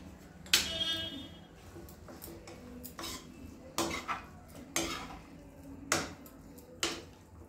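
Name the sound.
stirring pasta with oregano in a pan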